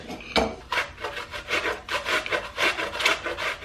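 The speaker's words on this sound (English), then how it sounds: "So I'm gonna grate my apple into my pot." An apple is grated into a pot in a home kitchen, making a steady run of loud, rhythmic rasping strokes up close.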